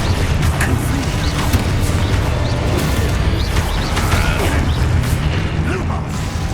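The Confringo fire spell is cast in the Hogwarts Legacy video game: a loud, dense rush of rumbling booms and crackling bursts that runs continuously, with no pause.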